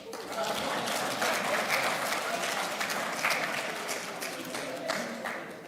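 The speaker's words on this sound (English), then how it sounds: "Clap for me." An audience breaks into sustained applause for Niger State's governor, a thick, even roar of clapping with a few voices mixed in beneath it.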